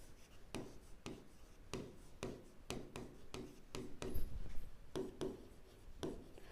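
Pen scratches and taps on paper while a maths problem on linear equations is worked out, a rhythmic series of quiet close strokes about every half second, with no talking.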